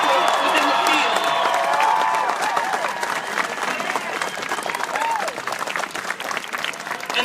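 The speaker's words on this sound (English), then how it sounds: "I want to have a round of applause for all science teachers, science mentors, those who are really supporting young people within the field." A crowd at an outdoor March for Science rally in Oklahoma breaks into sustained applause and cheering, a dense wash of clapping that slowly thins out over several seconds, with scattered voices mixed in.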